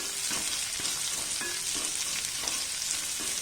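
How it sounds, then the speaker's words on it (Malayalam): Onions and green chillies fry in a pan while being stirred for pasta, giving a steady, close hiss and sizzle with light scraping from the stirring. "ഈ ഉള്ളി ഒന്ന് വഴന്ന് വരുന്നവരെ നമുക്കൊന്ന് വെയിറ്റ് ചെയ്യാം."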